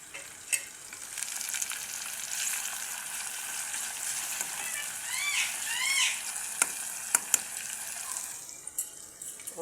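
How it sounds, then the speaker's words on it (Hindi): Spices temper with a sizzle and crackle in hot oil over dal, a steady hiss broken by a few sharp clinks and scrapes of stirring. "और हम इसके ऊपर तड़का लगा देंगे।"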